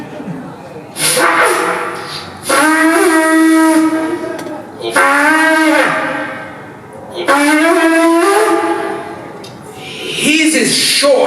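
A short goat horn blown in imitation of a neighbour's hunting call gives three or four brief, rising, reedy blasts with gaps between them, loud and close, ending with a faint trailing note.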